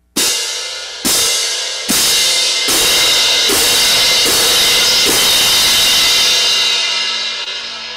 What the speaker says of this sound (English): When I let the top edge strike first, a flam, one edge strikes, the rest of the cymbal strikes